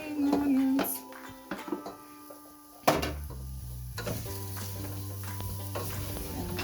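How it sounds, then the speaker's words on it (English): Cooked minced beef is stirred together with spring onions in a pan for Kenyan beef samosa filling, with close scraping and soft sizzling, a sharp utensil knock midway, then a steady low hum. "I'm going now to mix it with my spring onions"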